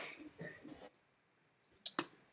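Mouse clicks while drawing a mask in editing software: two sharp, close clicks near the end follow a stretch of soft handling noise and a faint tick, with no talk.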